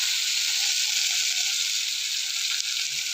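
Tomatoes sauté in a frying pan with a steady, bright sizzle and crackle, continuous and close, with no voices.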